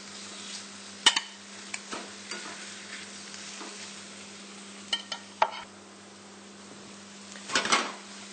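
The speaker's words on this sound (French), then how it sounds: "disposer mes filets de kangourou 2 minutes de chaque côté, qu'ils aient une belle couleur dorée" Kangaroo fillets fry in margarine in a pan, giving a steady low sizzle with a few sharp clinks and scrapes of a utensil against the pan.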